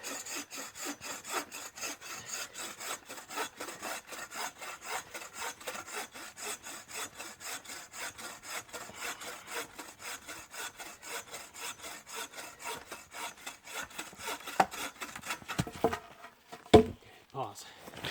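Firewood logs being cut with a hand saw, a steady rhythmic back-and-forth rasp of many strokes that stays close and even, then breaks into a few irregular knocks near the end.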